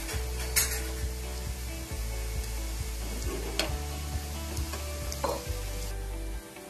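Lentil dumplings frying in hot oil for a paruppu urundai kuzhambu, a steady close sizzle and bubbling throughout, with occasional light stirring clinks and scrapes of a utensil in the pan.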